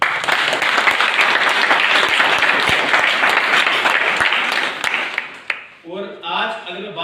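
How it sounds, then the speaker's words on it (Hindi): Loud, dense applause from a seminar audience for SPPS Wellness Private Limited, steady for about five seconds before thinning into scattered claps under background voices. "मैं चाहता हूँ कि एसपीपीएस वेलनेस प्राइवेट लिमिटेड के लिए जोरदार ताली"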